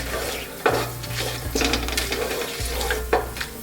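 Whole spices frying in hot oil for a biryani, a close, steady sizzle with occasional stirring scrapes and clinks of a pan, no voices.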